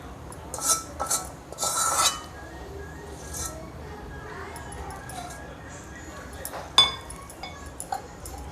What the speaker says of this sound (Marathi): चांगला मसाला मिक्स करून घेऊ